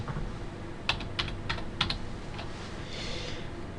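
A short burst of about five crisp keystrokes on a computer keyboard as a port number is entered in proxy settings, close and clear over a faint background hiss.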